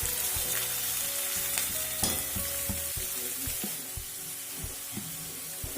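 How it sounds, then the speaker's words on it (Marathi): Finely chopped onion fries and is stirred in a pan for a Nagpur-style Saoji dal kanda. A steady, close sizzle runs throughout, broken by repeated scraping stirs, with no talking. "आता आपण बारीक चिरलेला कांदा घालून घेऊया।"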